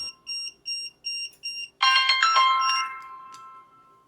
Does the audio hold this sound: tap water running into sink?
no